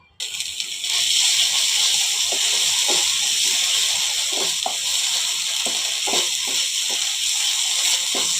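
Minced meat sizzles in hot oil while a momo filling is being made. A loud, steady frying hiss starts abruptly and continues, with soft scraping taps from stirring.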